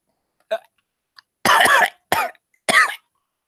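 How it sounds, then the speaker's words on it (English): A person coughs four times in quick, uneven bursts; the first is light and the last three are harsher, with silence between them. "And I apologize for the cough."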